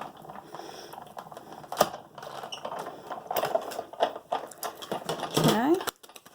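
A die-cutting machine running a framelit die through worn plates, with mechanical grinding and ratcheting and irregular clicks and thumps building toward a louder pass near the end.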